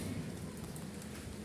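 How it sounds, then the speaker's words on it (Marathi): Heavy rain falls in a steady, dense patter, a brief, quiet and continuous wash of drops with no other sounds. "फुल पाऊस आहे"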